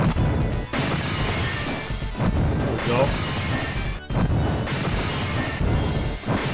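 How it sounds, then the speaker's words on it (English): Repeated smashing crashes from the Final Fight arcade beat-'em-up, glass breaking in loud bursts over game noise, with a voice talking briefly. "Break glass."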